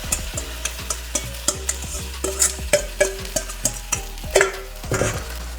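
Gram flour being stirred into North Karnataka-style junka in a sizzling pan, with a steady rhythm of sharp spoon taps and scrapes over a constant frying hiss, close and clear, with no talking.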